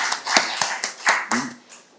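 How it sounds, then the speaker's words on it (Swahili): Brief applause for a judge at the Tanzanian judiciary's annual judges' meeting: a handful of sharp, close hand claps in quick, uneven succession over about two seconds, fading at the end. "Huyu bwana tumpigie makofi"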